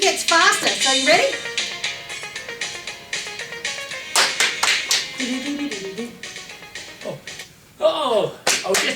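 Children and adults clap in quick bursts during a story-time dance at a community library, sharp slaps scattered between singing and talking voices, with a faster flurry of claps near the end.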